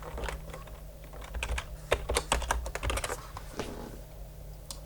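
Quick, irregular clicks of typing on a computer keyboard come in short bursts with brief pauses, close and fairly quiet over faint background hum.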